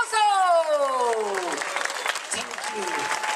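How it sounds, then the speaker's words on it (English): Audience clapping at a Halloween show at a resort, a lively burst of applause that carries on under a host speaking over a microphone. "Can we have a big, big applause for them as well?"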